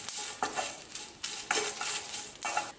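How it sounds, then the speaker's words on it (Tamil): Dried red chillies sprinkled with salt dry-roasting in a pan, with a steady crackling sizzle and repeated scraping stirs that come in bursts roughly every second, close and clear with no talk. "காஞ்ச மிளகாய் ஒரு 20 பீஸ். இதில் கொஞ்சம் உப்புக்கள் தூவி வறுக்கலாம்"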